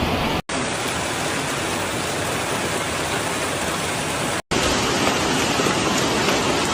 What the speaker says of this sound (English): The sound of the hailstones hitting the ground was so loud it sounded like a series of firecrackers exploding.